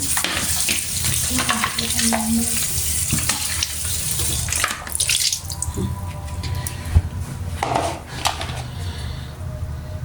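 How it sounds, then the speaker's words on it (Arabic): Tap water runs loudly and steadily into a kitchen sink while vegetables such as peppers, onions and mushrooms are rinsed under it. The flow shifts and splashes as the produce is moved, close by. "خليني بس اغسل هدول"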